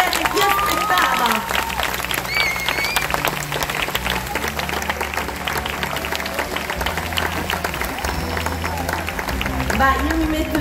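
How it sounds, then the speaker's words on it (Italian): Audience applause at a film festival event, dense continuous clapping with crowd noise and music-like tones underneath, loud and sustained throughout. "prendetevi l'applauso di questo pubblico e di questo fratello che aspettava"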